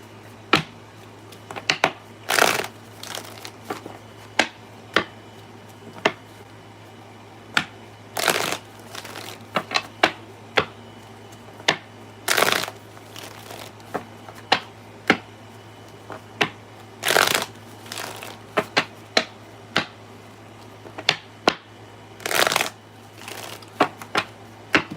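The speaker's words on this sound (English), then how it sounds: "Make sure the cards are good as shuffled." Tarot cards are shuffled close up in repeated bursts of sharp riffling and snapping, each lasting about a second, spaced irregularly over a quiet background hum.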